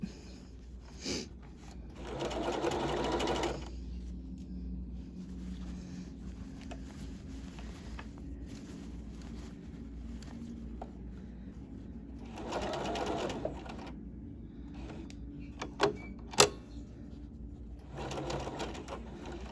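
A sewing machine stitches a facing down toward the side seam of a lined garment in three separate runs of steady, close mechanical whirring, with quiet handling of fabric and a few small clicks in between.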